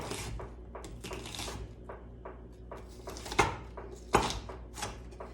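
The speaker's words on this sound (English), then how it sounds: "So we're gonna turn our onion again, chop the other way" A knife chops through an onion on a cutting board for homemade marinara, with a run of soft, irregular taps and a couple of sharper knocks standing out near the end.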